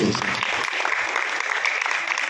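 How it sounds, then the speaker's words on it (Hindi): Loud, sustained applause from the audience at a Jaxman Global business meeting, a dense unbroken wash of clapping that fills the whole moment with no voice on top. "एक बार सभी साथियों के लिए जोरदार तालियां हैं"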